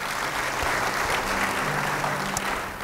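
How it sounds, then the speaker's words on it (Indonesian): A church congregation gives a sustained round of applause, dense continuous clapping filling the room at an even level with a low hum beneath and no clear speech. "Yang percaya beri tepuk tangan buat Tuhan."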